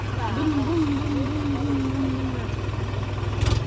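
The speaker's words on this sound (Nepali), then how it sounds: "यहाँ माथि माथि नै आउँदो रहेछ ट्र्याक्टर त" A steady low engine drone runs throughout, like an idling tractor nearby, with a faint whine rising and falling over it.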